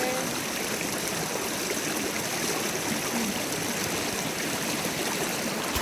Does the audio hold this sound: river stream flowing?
yes